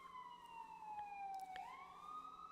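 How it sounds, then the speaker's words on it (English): A distant emergency siren wails faintly with a long falling-then-rising tone, heard alone against quiet background hum. "here come the sirens"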